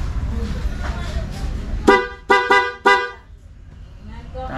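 The horn of a Honda Click 160 scooter honks four short times in quick succession, close and loud, over low engine rumble and faint background noise.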